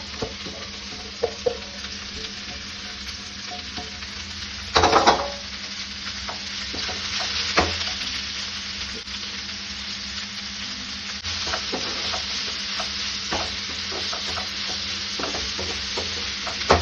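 Green chillies and onions fry in a pan with a constant crackling sizzle. Spoon scrapes and stirs break through now and then, with a louder burst of stirring near the five-second mark.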